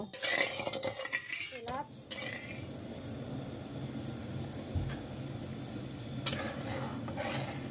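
A spoon stirs sugar in a metal pot to dissolve it for boondi syrup, scraping and clinking against the pot in a busy burst at the start, then fading into a steady low hiss with a late clink.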